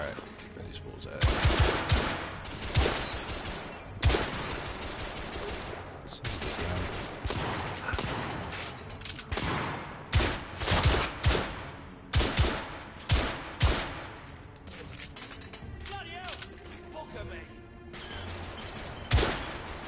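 Gunfire in the PS4 video game The Order: 1886 bursts out as rapid volleys and single loud shots, close and sharp, with short gaps between clusters of firing.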